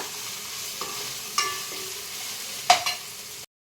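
Ginger garlic paste frying in a pan for chicken pulao, giving a quiet steady sizzle with a few brief stirring clinks before it cuts off.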